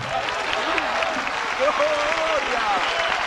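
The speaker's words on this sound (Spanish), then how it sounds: "un aplauso al Cristo vivo" Congregation applauding at a large 1991 evangelical gathering in Zulia, Venezuela, a constant crowd clap under shouting voices, moderately loud and unbroken from start to finish.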